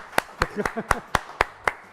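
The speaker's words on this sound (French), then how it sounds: "Applaudissements pour Gauthier Fourcade," A few sparse, evenly spaced handclaps ring out for comedian Gauthier Fourcade in a French television studio, about eight sharp claps close by, with a voice speaking between them.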